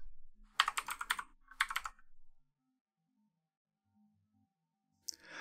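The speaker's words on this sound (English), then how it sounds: "In the next text box, we'll enter our password." Password typed on a computer keyboard in two quick bursts of close, crisp key clicks, followed by near silence and a faint click at the end.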